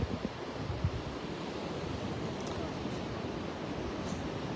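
Steady sea surf washing against the shore beside the Hassan II Mosque in Casablanca on a calm day, a continuous broadband roar with light wind buffeting the microphone.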